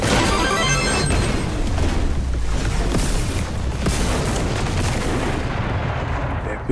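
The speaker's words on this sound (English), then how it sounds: "Epic explosion." Dense, continuous booming explosions and crashing blasts from the side-scrolling shooter Contra: Operation Galuga, with loud, sustained rumble and gunfire layered throughout.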